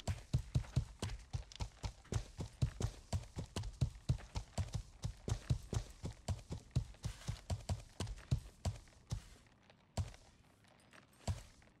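A horse galloping in a video game, its hooves clip-clopping in a fast, steady rhythm that runs close and clear throughout before briefly breaking off near the end.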